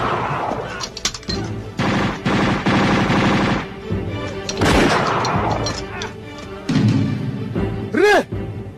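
Gunfire in a Filipino action film, a rapid series of sharp shots and bursts mixed with shouting and music, loud and close, with a final booming blast near the end.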